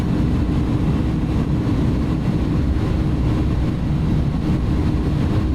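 Airbus A310 reverse thrust roaring during landing rollout in a flight simulator game, a loud steady low rumble sustained throughout with no breaks and no voices.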